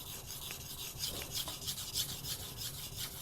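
Thin Shirogami fillet knife sharpened on a natural Japanese whetstone, soft rhythmic rasping strokes of steel on stone, close and fairly quiet, with no talking.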